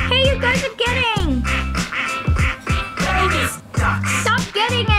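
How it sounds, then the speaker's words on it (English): Bursts of cartoonish duck quacking in a Roblox elevator game, several loud calls in quick succession with people speaking between and over them. "Bonus ducks!"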